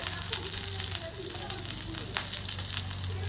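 Curry leaves and tamarind sauté in hot oil in a pan for a North Karnataka peanut chutney powder, giving a steady close sizzle with faint crackles and a low hum beneath throughout.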